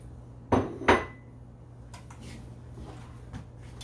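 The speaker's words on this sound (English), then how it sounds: "I'm going to go ahead and put that in the bowl." A pair of sharp clinks, like glass or metal knocking against a kitchen bowl as egg whites for a lemon meringue pie go in, then a soft quiet background with faint handling sounds.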